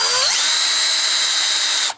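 A cordless drill drives a screw into a French door ball clasp, giving a loud, close, steady whine that ramps up in pitch at the start and then holds for nearly two seconds before cutting off abruptly.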